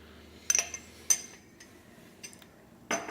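A metal spoon clinks against the glass of an Ardito French press while stirring coffee grounds, giving a few bright, separate taps spaced irregularly, with a final cluster of rattling clinks near the end over quiet background.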